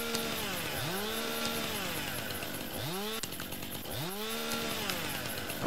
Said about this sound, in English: Let workplace health and safety see me coming up here on a tree with a running chainsaw.